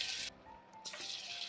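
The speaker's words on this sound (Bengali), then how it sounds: "এখানে তেল গরম হয়ে গেছে, স্বামী টিকিয়াগুলো ছেড়ে দিই ভাজতে।" Tikia patties dropped into hot oil on a home stove, a soft crackling sizzle that dips briefly and then returns, steady and close.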